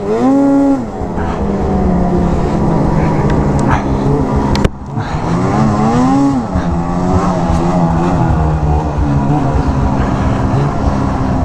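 A 2020 Arctic Cat Riot 8000 snowmobile rides on trails, its engine loud and close, rising and falling in pitch through continuous revving with a brief dip midway.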